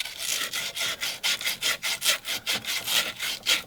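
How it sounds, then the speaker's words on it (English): Rapid rhythmic rasping strokes of a tool deburring the cut end of a copper pipe for a SharkBite spigot install, close and even, about four strokes per second. "We're deburring the copper."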